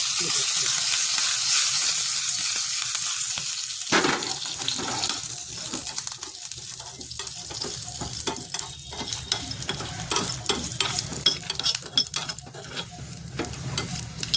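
Curry leaves crackle and sizzle in hot oil as tempering for kadhi, a loud burst of spattering that settles into steady frying with occasional stirring scrapes.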